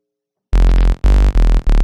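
A glitch hop bass synth built in Bitwig Studio with EQ hits in four loud, heavy, buzzy bursts with sharp cutoffs between them, following a short silence.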